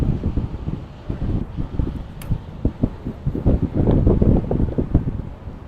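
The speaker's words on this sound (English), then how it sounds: "So breeze up to 10 knots here, beautiful conditions" Wind buffeting over open water during a match-racing sailing race off Macao, about 10 knots of breeze, heard as gusty rumbling microphone wind noise, loud and close, with uneven surges throughout.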